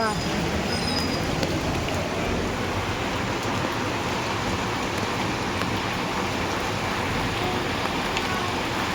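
Steady heavy rain drums on for several seconds, a constant wash of noise with no breaks or change in strength.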